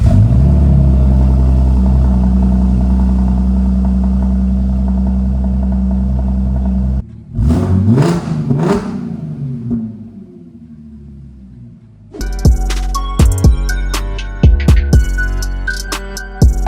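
Car engine in Bulgaria, started without a generator, rumbling steadily before cutting out, then cranking and catching with sharp, loud revs toward the end.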